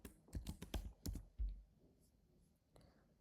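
Someone types on a computer keyboard in a short burst of quick key clicks, then a pause and one last tap, close and fairly quiet with no talking.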